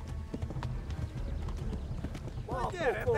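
Rhythmic hoofbeats of a galloping, tiring horse in the video game Kingdom Come: Deliverance thud steadily throughout, followed by a brief whinny near the end, moderately close.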